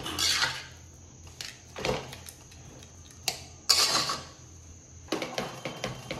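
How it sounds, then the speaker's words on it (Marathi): A masher pressing and mashing a cooked vegetable mixture in a pot, with soft squelches and sharp metallic clinks against the pan in an uneven rhythm, close and fairly quiet. "हे छान असं स्मॅशरने आपण व्यवस्थित मॅश करून घेऊया"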